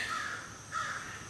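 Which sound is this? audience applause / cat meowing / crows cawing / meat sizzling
crows cawing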